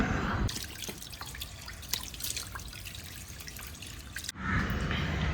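Tap water splashes into a sink close by while a face is rinsed clean, with irregular drips and splatters over a steady running hiss. The water cuts off toward the end, leaving a quieter room hiss.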